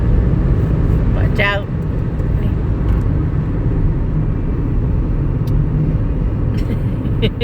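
Steady, loud road rumble from inside a moving car on a road trip to Idaho, continuous low engine and tire noise throughout with a brief clicking and occasional taps.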